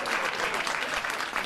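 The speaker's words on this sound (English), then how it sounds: "I don't want your pity clapping." A studio audience on a late-night talk show breaks into dense, sustained applause, steady and fairly loud from start to finish.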